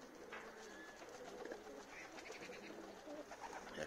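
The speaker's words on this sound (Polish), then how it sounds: "to były gołąbki młode z lotów" Young racing pigeons at their loft coo softly and repeatedly, faint and fairly close, with no talking.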